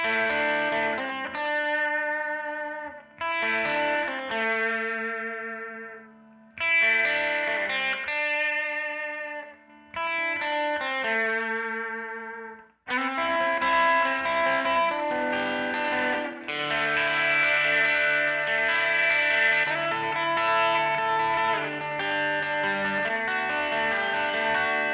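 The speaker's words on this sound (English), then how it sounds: "Here's an example of an electric guitar comp track." Electric guitar comp track assembled from several takes, heavily effected with distortion and chorus, its tone shifting noticeably between sections; choppy phrases with brief gaps give way to a sustained, dense passage, loud and alone.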